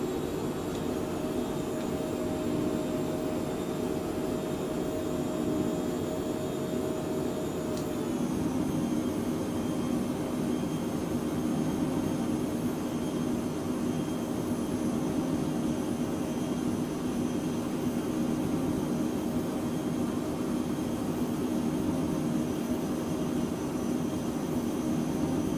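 A Phenom 100 jet in Microsoft Flight Simulator cruises in flight with a steady, unbroken engine drone and faint high whine, holding even in volume throughout with a slight shift in pitch early on.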